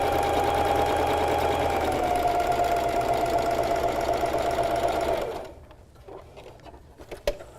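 Sewing machine stitching long gathering lines on an upcycled flutter-sleeve tee, a steady loud mechanical whir running continuously for about five seconds before stopping, leaving faint handling sounds.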